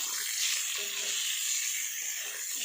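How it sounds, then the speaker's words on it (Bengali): An egg fries in a pan with only a little oil, giving a steady, close sizzling hiss that holds evenly throughout with no talking. "আর এখানে ডিমটাও ভাজা চাপিয়ে দিয়েছি।"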